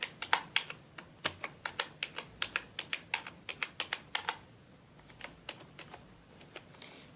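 Fingers type on a computer keyboard while filling in an online admission form. Quick, close, clicky keystrokes come in bursts, then slow to sparser taps, with no speech.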